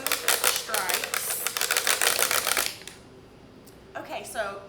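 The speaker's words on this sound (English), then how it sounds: "I'm just gonna quickly color some blue stripes" Quick scribbling strokes of a marker or crayon coloring blue stripes on paper, close and busy for nearly three seconds, then stopping as a voice briefly speaks.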